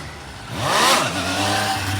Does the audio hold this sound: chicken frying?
no